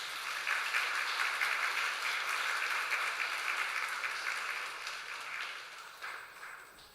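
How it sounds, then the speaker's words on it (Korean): A church congregation at a Sunday service claps together in celebration, a steady wash of applause that rises quickly and fades out gradually over about seven seconds. "우리 박수로 축하하도록 하겠습니다."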